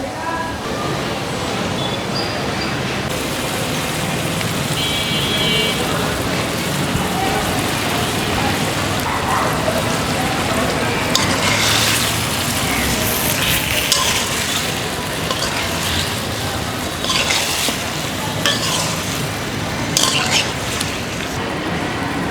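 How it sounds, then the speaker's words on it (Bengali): Washed boal fish fries in hot oil with garlic, onion and cumin paste in a rural kitchen, giving a dense, steady, rain-like sizzle with louder crackling bursts; a voice speaks at times underneath. "ধুয়ে রাখা মাছ দিয়ে দেওয়া হচ্ছে"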